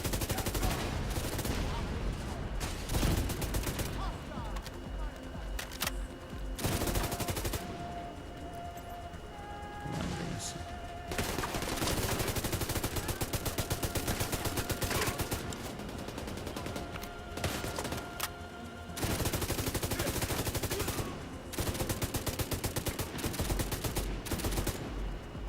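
A light machine gun fires in The Division 2 in long sustained bursts broken by brief pauses, loud and close, with other gunfire mixed in and occasional talk.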